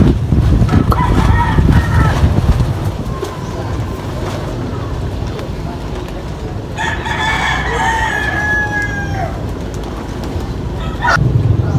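Roosters crow loudly and nearby, with two long crows standing out, while other chickens cluck around them in an outdoor area and people talk faintly in the background.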